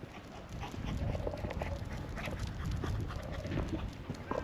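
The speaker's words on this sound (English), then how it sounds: "And these are the stray dogs of Romania." Stray dogs among socialist-era apartment blocks in Romania, heard as steady close panting and snuffling with scuffling movement, a continuous low animal noise and no clear barks.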